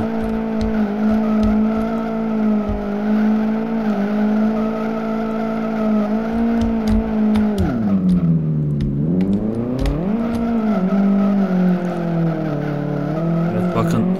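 An Audi Q7 mod in the Live for Speed racing game with its tires squealing in a long, loud skid, a sustained tonal screech that dips in pitch midway and then climbs back, over engine drone.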